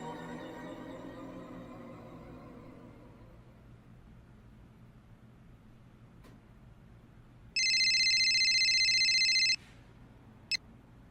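A telephone rings at a dial-out, one steady electronic ringing burst of about two seconds, clear and fairly close, over a quiet room with low background hum.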